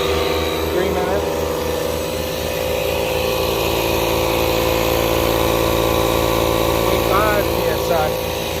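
A cordless tire inflator (Dewalt, Ryobi or Milwaukee M18 type) runs with a steady, continuous mechanical drone and pump hum from start to finish, close by, with faint voices briefly in the background.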